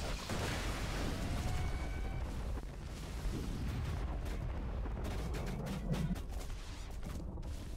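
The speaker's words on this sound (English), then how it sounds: "Throwing grenade." A grenade blast in the Borderlands 2 video game, a dense low rumbling boom that rolls on and lingers amid continuous game noise, no talking.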